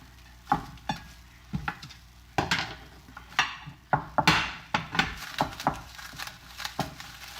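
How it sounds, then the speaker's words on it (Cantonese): Handmade fish balls pan-frying over high heat, with a soft sizzle under repeated sharp clinks and scrapes of a utensil against the pan, each close and distinct at an uneven rhythm. "嗱，下一步咧，我哋就開始煎魚蛋啦。"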